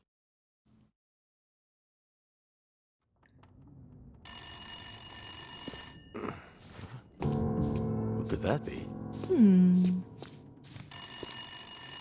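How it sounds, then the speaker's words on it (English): A cell phone rings inside the video game Wintermute, a steady electronic ringtone starting after a quiet stretch and repeating in bursts, with a person talking over it. "I'm trying to pick up the cell phone"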